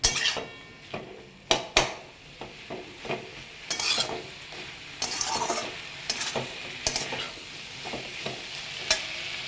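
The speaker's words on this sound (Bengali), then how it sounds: "চলো দিয়ে দিলাম একটা টমেটো, কষিয়ে নিই।" Tomato sautéed with fish in a pan for a Bengali fish curry, with a steady sizzle of frying oil broken by repeated sharp clicks and scrapes of a spatula against the pan, close and clear, no talking.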